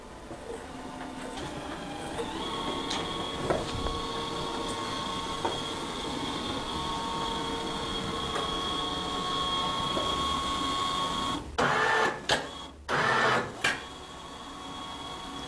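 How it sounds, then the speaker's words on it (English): A short run laminating machine with a sheet feeder runs steadily nearby, giving a sustained mechanical hum with faint ticks, then a few sharp clattering bursts near the end. "So you can see the sheet feeder here. Now we're going pretty slow."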